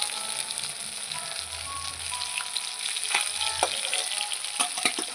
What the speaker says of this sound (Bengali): সব মাছগুলো দিয়ে দিলাম একসাথে ভেজে নেব